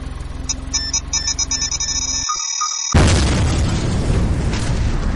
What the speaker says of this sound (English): A timed explosion has taken place.